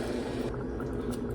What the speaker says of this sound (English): Now I'll pour that into the pan.